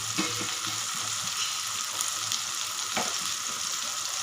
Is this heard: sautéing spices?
yes